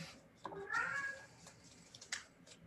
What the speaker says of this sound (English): Someone's got a cat.